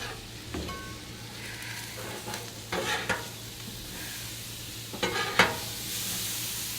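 Asparagus cooking in a pan, a soft continuous sizzle broken by a few clattering stirs and scrapes of a utensil, fairly quiet and close.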